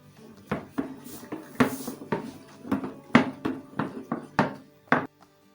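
A homemade izal germicide mixture is stirred in a container, giving irregular clunks and knocks of the stirrer against the sides. The hits come in uneven bursts, fairly close, with quiet gaps and no voices.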